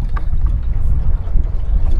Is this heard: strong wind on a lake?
yes